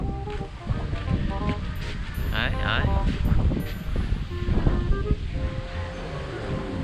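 Strong wind roars steadily over the open sea with rushing water and surf beneath it, while people talk and shout over the noise throughout.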